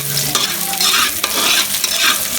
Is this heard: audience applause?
no